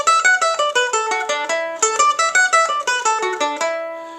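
Stringed instrument plays a phrase of "The Frost is all Over" at a brisk pace, a rapid even run of bright plucked notes carrying on for several seconds, solo and close.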